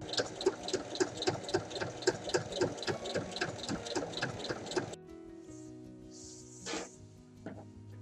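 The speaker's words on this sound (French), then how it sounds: "faire une surpiqûre tout autour" A sewing machine topstitches around the edge of a fabric sewing project, stitching in a fast, steady rhythmic whir for about five seconds before stopping, leaving only faint background noise.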